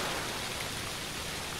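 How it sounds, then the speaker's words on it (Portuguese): Steady rain falling outdoors on an autumn day, a dense, even hiss of drops on surfaces that holds constant throughout with no voices. "tá chovendo, mas graças a Deus não ficou aquele escuro"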